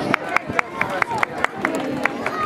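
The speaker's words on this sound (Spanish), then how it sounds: "Un aplauso, por favor, a todos sus propietarios." An audience at a pet exhibition dog show claps for the owners, a run of distinct evenly spaced hand claps over a busy crowd murmur and talk.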